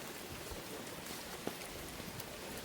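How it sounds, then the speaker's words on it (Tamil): Light rain drizzling outdoors where fish curry paste is being ground on a traditional stone grinder; a steady soft hiss of fine drops fills the clip with one small tap near the middle, and no one speaks. "மழை சாதுவாக துமிக்குது"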